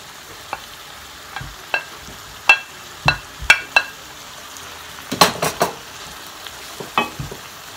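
Salt mackerel being stirred in a hot pan for a Jamaican dish, with a faint sizzle under a series of sharp utensil scrapes and clinks against the pan, some clustered and loud, all close by.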